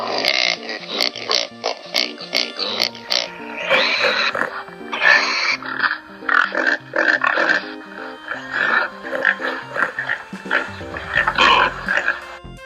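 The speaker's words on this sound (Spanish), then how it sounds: "Cerdo." Farm pigs give a long run of grunts and squeals, loud and close, in rapid irregular bursts that continue throughout.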